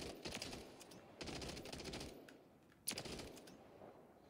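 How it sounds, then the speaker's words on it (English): Rapid bursts of automatic gunfire from an AMR set to five-round burst in Call of Duty MW3, loud and close, coming in several clusters with short gaps between them. "I forgot it's a burst. Okay. It's a 5-round burst."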